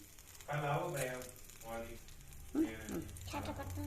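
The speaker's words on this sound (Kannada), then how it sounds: "ಜೀರಿಗೆ ಹಾಕ್ಕೊಂಡು ಈಗ ಸಾಸಿವೆ ಹಾಕೋನು" Cumin and mustard seeds splutter in hot oil in a pan, a soft, steady crackling sizzle that continues under people talking nearby.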